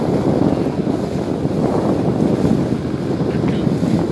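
A small boat on an open haor moves over gentle waves while wind buffets the microphone in a continuous loud rush with no pauses.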